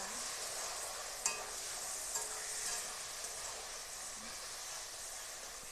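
Spices fry in oil in a pan while being stirred for a Bengali fish and cauliflower curry, making a steady, soft sizzling hiss with a few faint clicks from the spoon, close by and with no talking.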